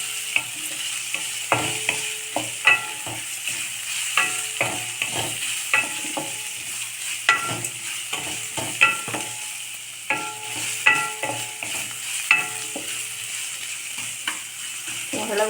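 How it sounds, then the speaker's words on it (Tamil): Chopped onion with turmeric sautéing in a pan for a radish stir-fry, a steady sizzle punctuated by repeated rhythmic spatula scrapes and taps against the pan, close and clear. "வெங்காயம் நல்லா வதக்கிட்டு ஒரு 2 நிமிஷம்"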